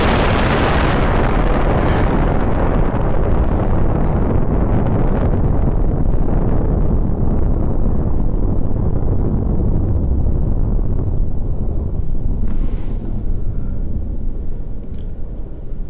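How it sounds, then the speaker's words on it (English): A fusion bomb detonates in the People Playground sandbox game as a huge, very loud blast that slams in at once and then rumbles and roars on for many seconds, slowly thinning out. "And then, we just get a fusion bomb."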